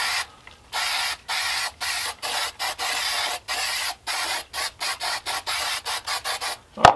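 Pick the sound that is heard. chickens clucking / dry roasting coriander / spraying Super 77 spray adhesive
spraying Super 77 spray adhesive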